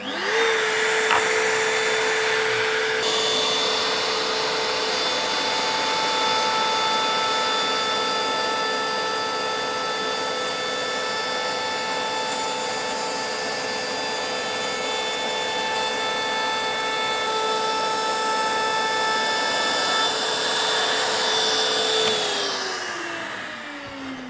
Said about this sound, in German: So, und jetzt fräse ich dann nochmal die Nut.